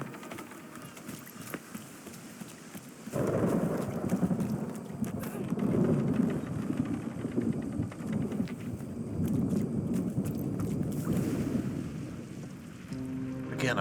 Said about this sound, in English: I wonder, like, is this storm scripted for this area, or is it just coincidence?